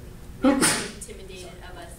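A sneeze bursts out once, close and fairly loud, amid people talking in a casual conversation.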